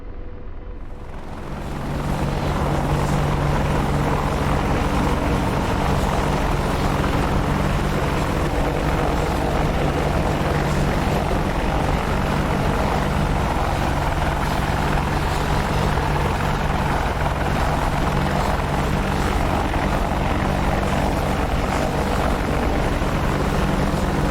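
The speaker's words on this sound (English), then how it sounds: "we're going to run parallel to the runway as we check out the Chinooks taking off" Chinook twin-rotor helicopters taking off in the DCS World flight game, a loud, steady rotor and engine roar that swells in within the first two seconds and then holds constant and close with no voices.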